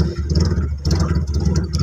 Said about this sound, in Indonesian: Suara mesinnya agak aneh ya